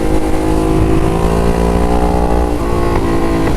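Hyper motorcycle cruising at roughly 76 mph, a steady, loud engine drone with dense harmonics holding level throughout, no wind noise and no speech.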